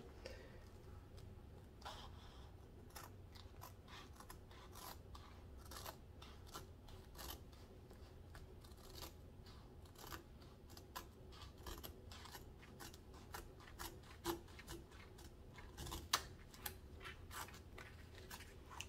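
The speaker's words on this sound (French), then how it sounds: "le principe, c'est vraiment de couper contre le bord d'une image" Scissors cut along the edge of a diamond painting canvas image of The Little Mermaid, giving a steady run of quiet, crisp snips and clicks close by, with no talking.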